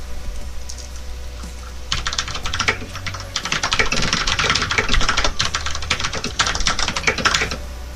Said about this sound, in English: Do you guys like my keyboard? It's very loud. It has a good noise.